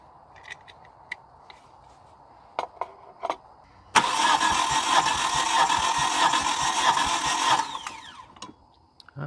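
A car engine cranks over for a cylinder compression test in a steady, loud whirring run of about four seconds, preceded and followed by light clicks and handling noises.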